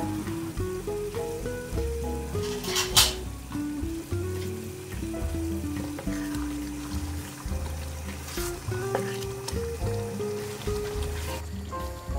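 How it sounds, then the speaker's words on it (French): Garlic cooking in oil in a pan for an Eritrean doro zigni chicken stew sauce, a steady soft sizzle with light scraping and clinks from stirring. "Il faut que l'huile et l'ail puissent cuire un peu."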